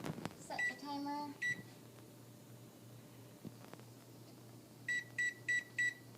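An oven timer being set: a quick run of button beeps, a brief tonal chirp, then four evenly spaced electronic beeps at the end against a faint, steady hum in a kitchen.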